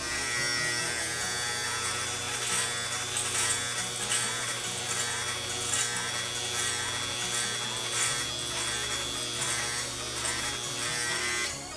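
Electric hair clippers buzz steadily and close up while cutting hair during a home haircut, a continuous whine with slight rises and dips in tone as the blade moves through the hair, with no talking over it.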